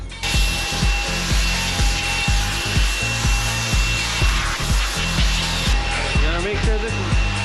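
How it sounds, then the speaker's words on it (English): A loud, steady leaf blower roars continuously while drying a car, with intermittent lower thumping and scraping sounds underneath and brief voices near the end. "We got air hose and leaf blower. Let's dry this thing off."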